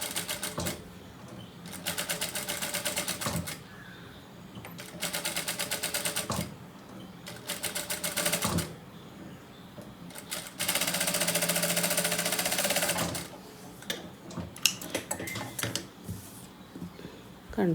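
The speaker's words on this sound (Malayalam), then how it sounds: "അങ്ങനെ മറിച്ചിട്ടിട്ട് ചുറ്റും സ്റ്റിച്ച് ചെയ്യാം." A sewing machine stitching around a fabric neck piece, running in several bursts of rapid mechanical whirring separated by pauses, close and clear, with a voice talking between runs.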